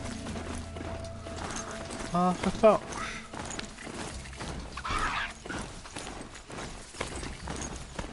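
Horse hooves clip-clop at a steady galloping rhythm in the video game Horizon Zero Dawn, with mechanical clanks, a brief whinny and someone talking over the hoofbeats.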